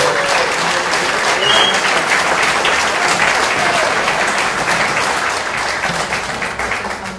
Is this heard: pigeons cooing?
no